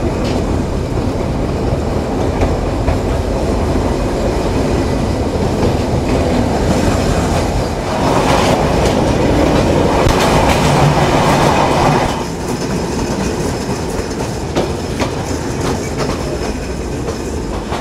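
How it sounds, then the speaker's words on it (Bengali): A train runs at night past Jagati railway station in Kushtia, Bangladesh's first railway station, with a loud continuous rumble and clickety-clack of wheels that swells for a few seconds midway. "আমরা এই মুহূর্তে পার করছি বাংলাদেশের প্রথম রেলওয়ে স্টেশন কুষ্টিয়ার জগতী রেলওয়ে স্টেশন"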